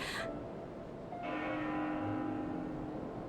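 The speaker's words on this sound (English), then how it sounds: "That bell sound must be coming from somewhere." A bell rings in the video game Xenoblade Chronicles 2, a clear resonant tone that starts after a short pause and holds with a sustained ringing hum over a low background.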